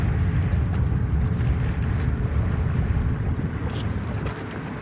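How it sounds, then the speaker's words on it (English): Wind blowing outdoors, a loud, continuous low rush buffeting the microphone for the whole stretch. "here goes the wind."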